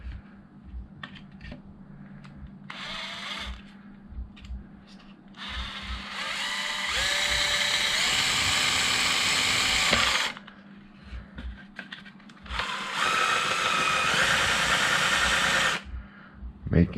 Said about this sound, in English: So I want to drill this completely through.